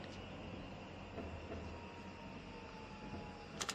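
A train runs in the Switch video game Densha de Go Yamanote Line, a steady rolling rumble with faint rhythmic wheel clatter, then a couple of sharp clicks near the end, with no talk.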